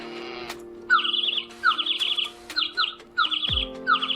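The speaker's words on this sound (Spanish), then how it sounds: "El sonido del pájaro." Repeated bird chirps in short, bright bursts, spaced through a few seconds and fairly close, over a steady low hum with a brief low thump near the end.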